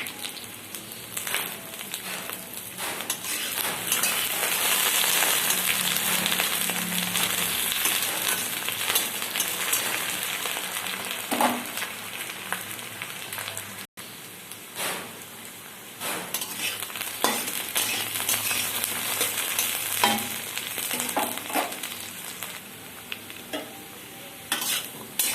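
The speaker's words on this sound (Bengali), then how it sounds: "কেটে ধুয়ে রাখা কচু আলু দিয়ে দিলাম, ভালো করে ভেজে নেব।" Taro and potato pieces fry in hot mustard oil, giving a loud, continuous sizzling hiss close by with occasional stirring scrapes and a brief dip in the middle.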